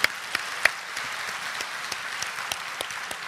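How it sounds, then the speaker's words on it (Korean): A church congregation applauds for visiting families, a soft, steady patter of many hands with a few louder claps standing out near the start. "이분들을 위해서 우리 박수 한번 하십시다"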